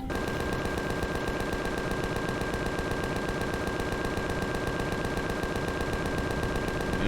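Rapid, sustained automatic gunfire from weapons in the space survival game Empyrion Galactic Survival, a loud continuous rattle of shots running through the whole stretch with no break.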